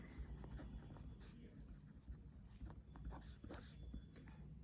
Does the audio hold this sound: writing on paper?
yes